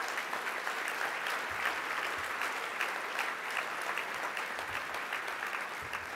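A dinner crowd at a sold-out fundraiser breaks into sustained applause, a dense, even wash of many hands clapping, fairly distant and quiet, with no speech over it.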